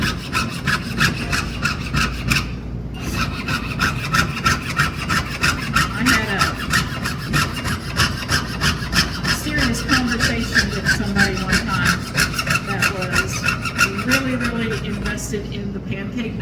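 A jeweler's hand saw cuts through silver sheet in quick, steady back-and-forth strokes, close and continuous as art pieces are sawn out, with a voice talking over it at times.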